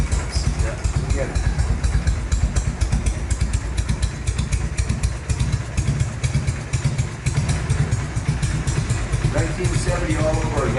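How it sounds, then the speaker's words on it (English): Restored 1970 Harley-Davidson FLH shovelhead V-twin idling nearby with a quiet, lumpy, rhythmic exhaust beat, steady throughout, with people talking over it. "That's one of the quietest shovelhead motors I've ever heard"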